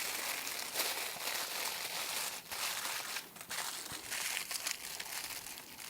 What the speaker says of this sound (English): I'm always using a double layer of aluminum foil because you never know if it's gonna break in your barbecue